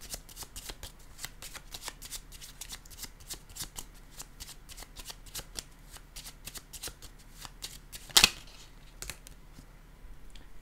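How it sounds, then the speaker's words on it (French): Tarot cards being shuffled and laid down, with a long run of rapid close riffling flicks and one sharper snap near the end, with no talking. "Ici, je vais déposer une carte violette."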